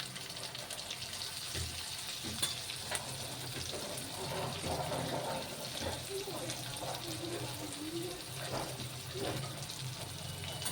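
Powdered spices fry and are stirred in a pan, giving a soft steady sizzle with occasional scraping clicks from stirring, close and fairly quiet throughout.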